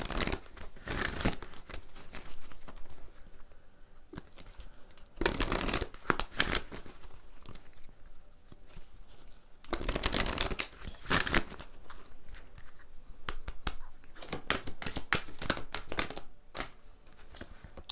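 Oracle cards being shuffled during a tarot reading, a run of dry papery riffles and crinkly card scrapes with louder bursts of bridging, close to the microphone and with no voices.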